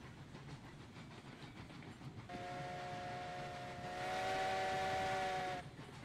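Steam locomotive in the Railroads Online game rolling along with a steady rumble and clatter, then a loud sustained steam whistle blasts for several seconds before cutting off.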